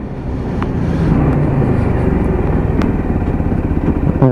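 Lexmoto LXS motorcycle riding on a road near Simpson Village, a steady engine drone and wind rumble holding throughout at close range, with no voices.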